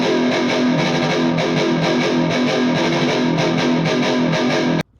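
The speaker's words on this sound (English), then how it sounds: "The distortion sound is pretty standard thing." Loud, dense distorted electric guitar chords from a JB pickup, playing the Terminator theme, ring continuously, then cut off abruptly near the end, leaving silence.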